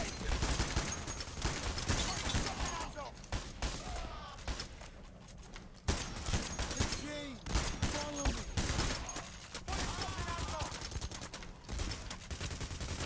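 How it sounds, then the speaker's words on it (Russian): Dense gunfire in PAYDAY: The Heist during a First World Bank heist on Overkill, bursts and fusillades hammering a wall, loud and continuous with scattered voices and game effects mixed in. "Стену стреляют."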